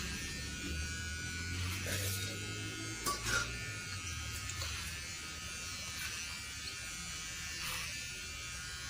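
An electric hair clipper buzzes steadily and continuously while cutting a nephew's hair, close and unbroken, with a few faint knocks in the background.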